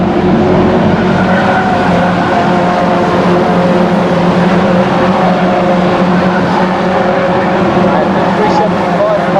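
A race car spins and skids during a Fast & Furious round at Aldershot Raceway, its loud engine roar and scrubbing tyre noise continuing steadily and close for the whole stretch without a break.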